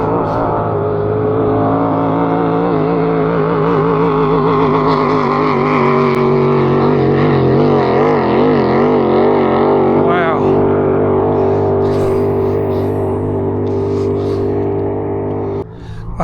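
A loud, steady motorboat engine drones throughout, its pitch wavering as it runs, with a brief dip near the end.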